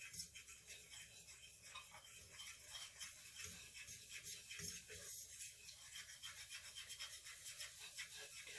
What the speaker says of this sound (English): you want to continue to whisk until it's a golden brown